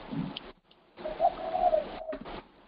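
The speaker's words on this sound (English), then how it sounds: "Must be Hawaiian bird." A bird calls outdoors in Hawaii, giving a few soft, cooing notes in short phrases with brief gaps, fairly close and alone without talk.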